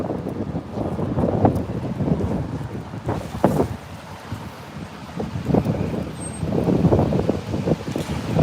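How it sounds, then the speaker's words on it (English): Wind buffets the microphone outdoors in a steady low rumble with gusty surges, a few faint thumps and no clear speech. "It is windy and breezy."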